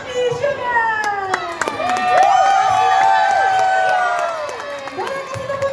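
An audience at a talk show cheers, whoops and shouts as a guest is called onstage, a loud, sustained crowd roar with excited voices carrying over it throughout.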